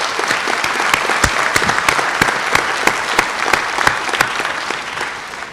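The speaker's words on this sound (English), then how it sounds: "can I get a round of applause for our newly elected town clerk and newly elected selectmen?" Audience applause at an annual town meeting for newly elected town officials: steady, dense clapping from a room full of people, with sharp individual claps standing out throughout, moderately loud and sustained.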